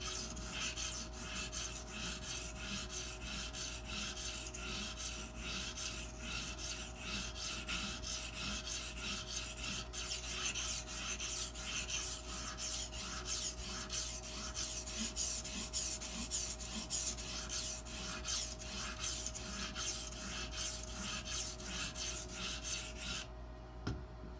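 A boning knife is polished on an Edge Pro sharpener with a steady, close, rhythmic rasping of stone strokes along the blade, continuing without talk until a brief stop near the end.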